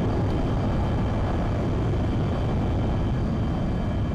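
English Electric Lightning F6 jet in flight, a steady, loud, continuous engine roar with no breaks and no voices.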